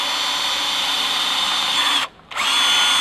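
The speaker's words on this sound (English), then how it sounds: "So I'm going to drill these out first and then open them up with a larger drill bit later." A power drill whines steadily at high pitch while boring holes in a metal plate for a Land Rover Defender cubby box, pausing briefly before starting again.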